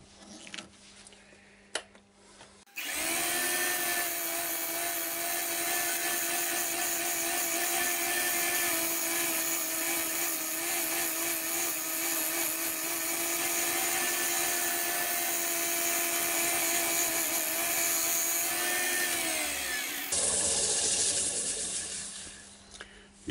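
A big walnut bowl spinning on a wood lathe while a turning tool does finishing cuts, a continuous loud whirring scrape for nearly twenty seconds that starts and stops abruptly, quieter room sound on either side.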